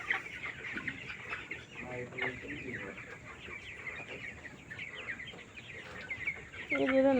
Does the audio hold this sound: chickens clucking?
yes